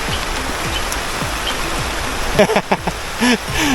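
Heavy rain pours steadily outdoors over a field where water spinach is being picked, a dense continuous hiss with a few brief knocks and voices near the end.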